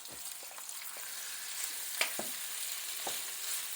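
Garlic and marinated steak fry in a hot pan with a steady, quiet sizzle and a few soft clicks and taps over it, with no voices.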